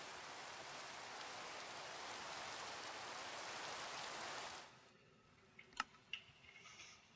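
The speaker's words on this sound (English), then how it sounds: "Can't do nothing until the rain stops, because this is going to be annoying." Steady rain falling in the Sky Factory Minecraft modpack, a dense even hiss that runs for several seconds, then cuts out abruptly to near quiet broken by a few faint ticks.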